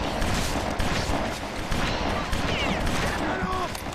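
Dense gunfire rattles in the video game BloodRayne, with a loud, continuous spray of shots and bursts filling the whole stretch.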